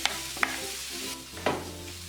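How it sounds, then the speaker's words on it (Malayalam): Vegetables stirred in melted butter in a pan, with a spoon scraping and knocking a few times over a steady sizzle and low frying hiss, close and clear with no talk. "നമുക്ക് ഈ എടുത്തു വെച്ചിരിക്കുന്ന വെജിറ്റബിൾസ് എല്ലാം ഇതിലിട്ട് ഇളക്കി കൊടുക്കാം."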